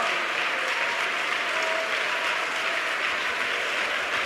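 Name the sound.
congregation applauding in church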